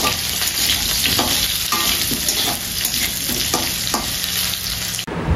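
Potatoes frying in a pan while being stirred, a steady loud sizzle broken by repeated scraping stir strokes roughly every second, close up, with no talking.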